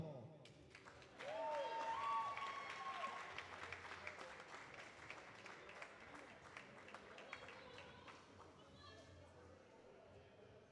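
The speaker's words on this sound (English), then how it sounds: "Big round of applause." Audience at a powerlifting meet medal ceremony breaks into applause, a fairly faint, hall-filling spread of clapping with voices talking and calling over it.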